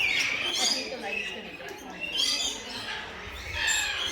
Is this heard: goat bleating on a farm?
no